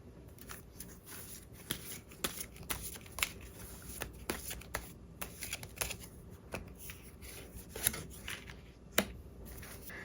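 Tarot cards are shuffled and handled at close range, producing a run of crisp, evenly spaced flicks and riffles over about ten seconds in a quiet room with no talking.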